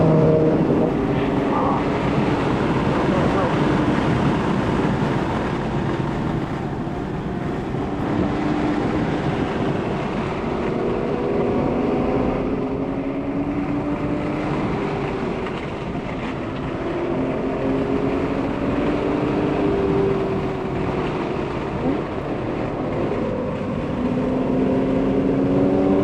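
A B9 Audi S5 driven hard around the Barber race track, its engine droning steadily and loud throughout with rising and falling pitch sweeps as it works through a couple of turns, accompanied by constant wind and road noise.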